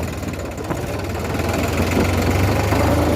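A GPS-equipped tractor on a Gujarat farm runs its engine steadily as it turns, a loud, close, continuous rumble that builds slightly toward the end, with no voices.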